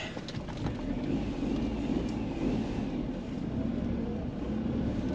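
Daihatsu Move pulling away with the clutch engaged, a steady close engine drone with road rumble that holds even throughout and has no talking over it.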